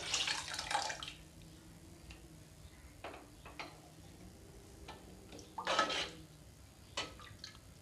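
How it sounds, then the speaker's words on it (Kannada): Water is poured into Udupi-style sambar of dal and coriander powder in a pot, giving a brief splashing pour at the start and another short burst later, with faint clinks between. "ಈಗ ನೀರು ಹಾಕೊಳ್ಳೋಣ ಇದ್ರದ್ದು"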